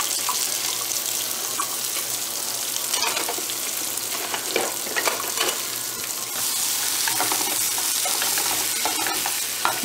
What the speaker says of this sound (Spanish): Y acá en el sartén voy a poner cebolla blanca.